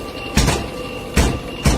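A door slams shut by itself in a horror story scene, three sharp heavy thuds spaced apart over a steady low hum, loud and close with no talking.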